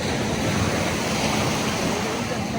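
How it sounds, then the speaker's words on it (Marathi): Ocean waves breaking and surging up the sand at Kashid Beach near Alibag, a continuous loud roar of surf with wind buffeting the microphone and no clear pauses. "परत एक मोठी लाट येणार आहे."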